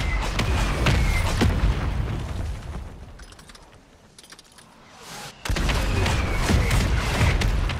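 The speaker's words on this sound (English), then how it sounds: "Friendly mortar strike inbound." Friendly mortar strike explosions in a multiplayer shooter, heavy booming blasts and crackling debris rolling in dense clusters, easing into a quieter lull before another loud barrage erupts close by.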